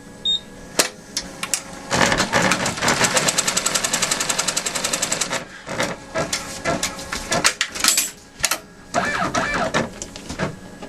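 A sewing machine stitches a crazy quilt block seam in rapid mechanical bursts, stopping and restarting several times, close and loud with brief pauses between runs.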